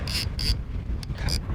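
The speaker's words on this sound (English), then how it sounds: "You may be copying a bit of wind noise from the mics here, and that's because it's blowing a gale" Gale-force wind buffets the microphones aboard a fishing boat, giving a low, rough rumble broken by several short bursts of higher hissing noise.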